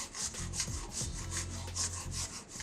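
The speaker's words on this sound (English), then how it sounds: "Now that I have my Nagaimo all grated up, it's really slimy and sticky looking." Nagaimo yam being grated on a hand grater, quiet rhythmic rasping strokes, close and steady, with no talk.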